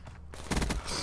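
A quick burst of gunfire in a shooter video game, several loud overlapping shots packed into about a second, fired alone with no talk.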